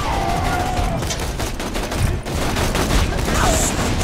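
Rapid gunfire rattles through a Borderlands 2 battle against enemies, dense and continuous with game sound effects layered over it.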